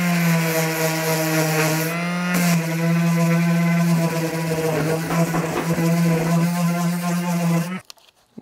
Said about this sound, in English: we're ready to sand off these plugs